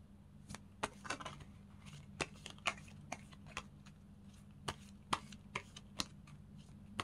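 Tarot cards are shuffled and drawn from a deck: a quiet, close run of sharp papery snaps and flicks, irregularly spaced over a faint steady background hum.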